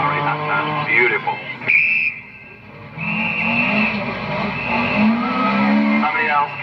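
A Lancia Stratos rally car at the 1978 RAC Rally, its engine revving and changing pitch as it passes nearby, dropping briefly before the revs climb again, with a commentator talking over it.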